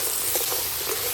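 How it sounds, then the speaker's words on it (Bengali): Cut crab pieces sizzle loudly as they are dropped onto spices frying in a pan, giving a steady hiss with small spattering pops. "এবার আমি দিয়ে দিচ্ছি কেটে রাখা ক্যাংড়াটা এই মশলার উপরে।"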